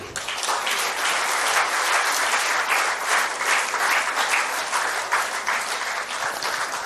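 Loud, close audience applause for the hero Sasikumar at a film-team felicitation event, many hands clapping in a dense, sustained burst that continues evenly the whole time.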